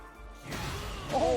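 Heat Smash attack landing in Tekken 8: a sudden crashing impact with a short whoosh, followed by a bright ringing effect and a brief voice cry in the last moments.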